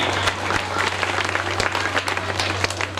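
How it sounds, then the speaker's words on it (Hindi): An audience at a school Independence Day program claps together, a dense, moderately loud patter of applause with a steady low hum from a sound system underneath. "सभी लोग जोर से ताली लगाएंगे"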